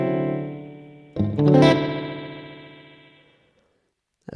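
A guitar run through the Waves H-Delay plugin with far too much feedback plays a sustained chord, then a sharp bright stab whose repeats smear into a long, slowly fading tail before a brief new attack at the end.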